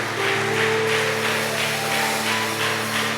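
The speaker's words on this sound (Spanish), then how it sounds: "Den un aplauso al Señor, mis amados" A church congregation claps together, producing a continuous, even patter of applause with sustained steady tones ringing underneath.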